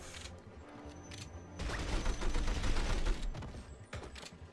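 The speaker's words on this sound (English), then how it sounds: "Kalashnikov." Kalashnikov rifle fire in the 007 From Russia With Love video game, bursts of clattering shots in a busy, dense stretch of a few seconds, mixed with mechanical clunks and game effects, no speech.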